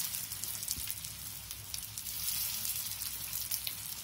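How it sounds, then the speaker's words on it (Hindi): Soya cutlets deep-fry in hot oil with a continuous, close hiss and crackle of bubbling fat that holds steady throughout. "अभी हमारा तेल गरम हो चुका है। अब हम इस पे हमारे कटलेट फ्राई करने के लिए डाल देंगे।"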